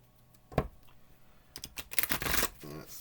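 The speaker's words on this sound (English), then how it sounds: "Let me give these a couple of shuffles." A deck of oracle cards is shuffled by hand in short bursts of riffling and flicking, close and fairly quiet, with a single sharp snap before the longer shuffle.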